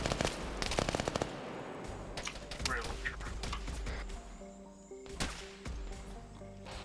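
A .50 caliber machine gun in a Mass Effect game fires rapid, punchy bursts close by, the rattling shots stopping and starting over a busy background of game effects.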